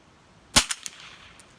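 Gunfire at an outdoor shooting range: one sharp, loud close shot followed by a couple of quicker fainter reports and echo, over a quiet background.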